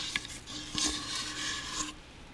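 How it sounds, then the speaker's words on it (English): A spoon drags through thick, gooey cinnamon crumb cake batter, making a close, soft rasping scrape with a couple of light knocks against the bowl. "Give it a little stir here."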